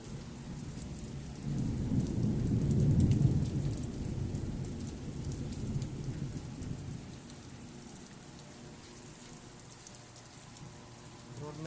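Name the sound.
heavy rain and thunderstorm in Chennai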